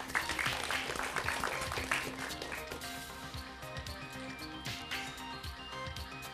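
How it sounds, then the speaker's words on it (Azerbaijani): An audience claps for a quiz team at a televised competition, with dense applause strongest at first and then thinning out, as scattered claps and light noises carry on underneath. "Alqışlayaq."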